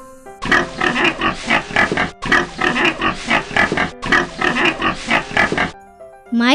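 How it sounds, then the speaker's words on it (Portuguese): A pig grunts and oinks in three dense, rhythmic bursts separated by short gaps, close and loud, with a faint rising squeal at the very end. "Olha, o porco. Qual será o som que ele faz?"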